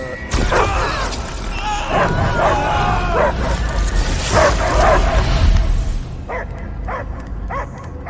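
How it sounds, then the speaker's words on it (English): Dog barks and growls ring out over busy game-style background noise and voices in Guardians of the Galaxy, loud and close, with a few sharper barks near the end. "I hear only barking"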